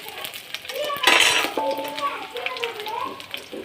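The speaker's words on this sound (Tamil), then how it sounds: "மூணு பச்சை மிளகாய் போட்டுக்கோங்க நல்லா வதங்கட்டும்" Three green chillies sautéing in a pan, a soft sizzle with metal spoon clinks and stirring scrapes, while a voice talks over it.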